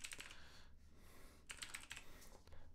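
Quick keystrokes on a computer keyboard as a name is typed, a steady run of clicky taps in short bursts with brief pauses, close and fairly quiet over a low background hum.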